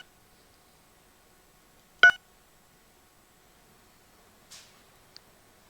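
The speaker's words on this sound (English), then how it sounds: "that beeping sound drives me fucking mental" A sharp electronic beep from the space strategy game Distant Worlds Universe sounds once clearly, followed later by a fainter chirp and a tiny click against near silence.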